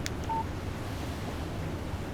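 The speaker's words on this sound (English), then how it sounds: "Text message from Barry." A short electronic text message alert tone chimes on a phone in the video game Alan Wake Remastered, a single brief beep over a constant windy rumble.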